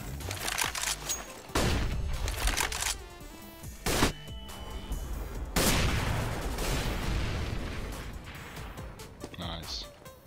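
A decoy grenade in CS:GO plays fake gunfire, sharp bursts of shots at intervals over a busy game soundscape, with a player's voice talking over it.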